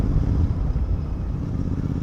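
A GT650 motorcycle fitted with a Moto Torque aftermarket exhaust idles and revs close by, giving a steady, dense low rumble with no sharp revving peaks.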